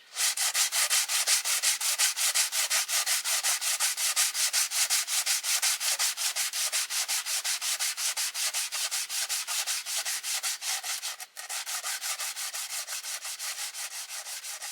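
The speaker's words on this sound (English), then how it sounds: "I just hate sanding." Someone sands a wooden coracle paddle by hand with quick, rhythmic back-and-forth rasping strokes, close and even throughout, with one brief pause near the end and no talking.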